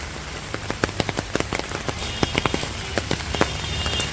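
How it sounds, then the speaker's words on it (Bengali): Moderate rain falls steadily in a village, a dense even patter with many distinct close drops tapping on a nearby surface, with no voices. "আর বৃষ্টিটা হইতেছে এই দুপুর থেকে, এখনও কমে নাই।"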